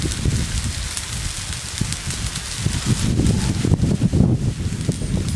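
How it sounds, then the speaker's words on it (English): A breeze gusts through a garden beside a barbecue on a hot day, producing a loud, continuous buffeting rustle that swells and eases in waves. "Bit breezy in the garden"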